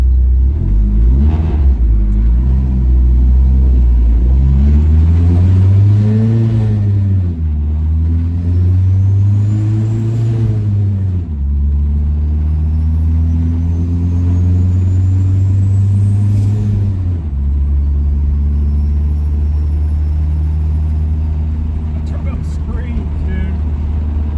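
A heavy turbocharged truck engine in a Dodge Dakota drones steadily at close range, pitch rising and falling as it pulls, with constant cab rattling and vibration throughout.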